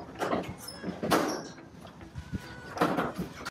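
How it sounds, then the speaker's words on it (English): An access door in a kennel building slides and thumps, a few close clunks and scrapes in a quiet room. "Here we have an access door to the back,"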